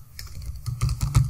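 Keys on a computer keyboard clatter in quick, uneven bursts as a command is typed, the strokes close and crisp, growing slightly louder toward the end with no voices.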